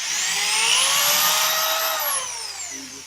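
A power drill bores a hole for a drawer knob through a shop-made jig, giving a loud, close whine that rises, holds, then winds down after about two seconds.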